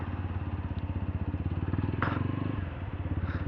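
Busy road traffic with motorcycles: a loud, steady rumble of nearby engines with a pulsing idle-like throb, a brief rattling clatter partway through, with no speech over it.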